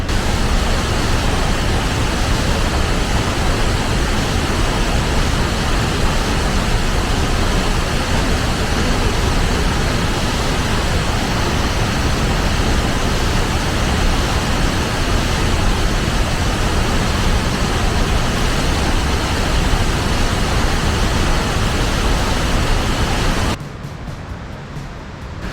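Waterfall at the trailhead in Fall Creek Falls State Park, Tennessee: a constant, loud broadband roar of falling water with no pauses or voices, cutting off abruptly near the end.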